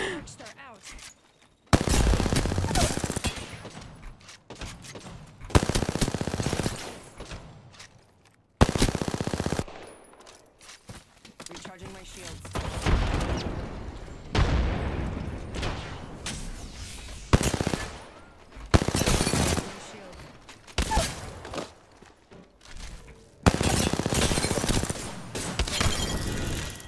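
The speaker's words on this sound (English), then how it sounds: "I'm taking shots." Gunfire in a shooter video game comes in repeated rapid bursts of automatic fire with short pauses between them, loud and close, with a player talking at times.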